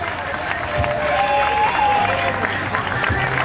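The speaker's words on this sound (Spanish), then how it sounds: "El aplauso, aplauso, aplauso, Alberto Contador, ganador de la Vuelta a España" A crowd applauds Alberto Contador on the podium as winner of the 2008 Vuelta a España, a dense, continuous wash of clapping and cheering with a voice faintly audible over it.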